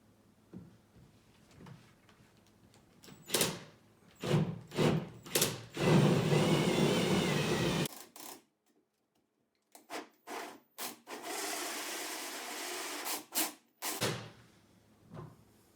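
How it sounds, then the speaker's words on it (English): A power drill grinds a hole into a ceiling in rough bursts, the bit catching, with scraping and rubbing between runs; close and fairly loud, no talking. "My drill bit seems to be catching, so try it again."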